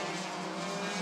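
Several race cars roar together on the short oval at Rockford Speedway during a Bandit heat, a steady, dense engine drone holding at full volume throughout the short moment with no pause.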